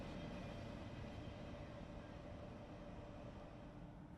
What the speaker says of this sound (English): the train we have been waiting for is appearing in the distance